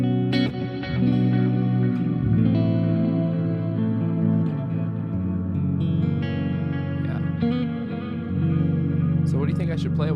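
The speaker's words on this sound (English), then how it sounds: "there's a lot of atmospheric delay, kind of reverb" Guitar played through atmospheric delay and reverb effects gives sustained, shimmering chords with long echoing tails, steady and fairly loud throughout.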